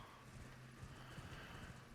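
Horse hooves in the Elden Ring video game, a quiet, steady rhythmic clip-clop of a ridden mount under soft ambient noise, with no voices.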